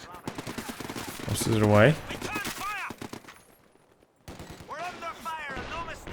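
Maxim machine gun fire in a Company of Heroes 2 match, with dense bursts of rapid shots and a pause between volleys, heard under a commentator's steady talk.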